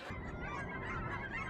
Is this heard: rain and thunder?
no